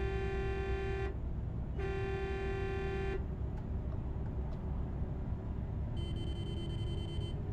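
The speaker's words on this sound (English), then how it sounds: "But now I can hear the air horn." A truck's air horn in a trucking simulator game sounds two steady blasts, each about a second long, then a higher, thinner horn tone follows after a pause, all over a constant low engine rumble.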